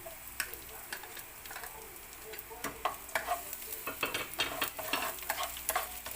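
Chopped garlic, about ten cloves, sautés in a pan with a soft, continuous sizzle broken by frequent close stirring clicks and taps, with no talk over it.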